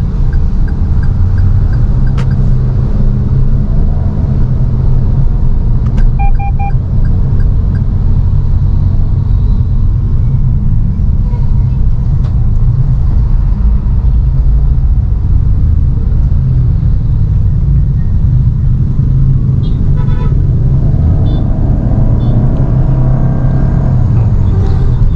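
A Toyota Yaris Cross GR Sport Hybrid moves through slow Jakarta traffic, heard from inside the cabin as a steady low road rumble and engine drone, with faint ticking and clicks. No one talks.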